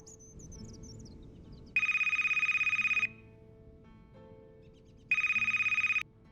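A phone rings while calling Sasha in the video game Gray Skies, Dark Waters: two loud, steady electronic ring bursts with a pause between, over a soft low ambient background with a faint chirping tone at the start.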